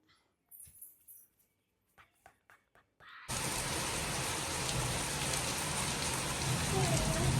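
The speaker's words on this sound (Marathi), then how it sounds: "पाऊस खूप मोठा आला आलेला आहे" Heavy rain during a thunderstorm in Pune bursts in suddenly after a few seconds of quiet broken by scattered thumps, then roars loud and dense as a continuous steady downpour, with no talk heard.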